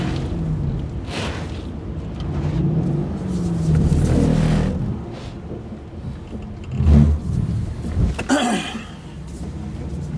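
A Mercedes-Benz E64 AMG engine drones and surges under power as the car drifts sideways on track, with the engine note rising and falling steadily through the cabin and a few low voice fragments.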